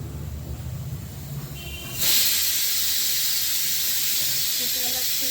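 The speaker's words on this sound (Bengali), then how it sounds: "তেলটা আমি দেবো, গোটা গরম মশলা ফোড়ন দেবো, একটু দিলাম দারচিনি" Whole garam masala and cinnamon hit hot oil, and after a quieter start a loud, steady hiss of crackling oil bursts in and continues close by for the rest of the time.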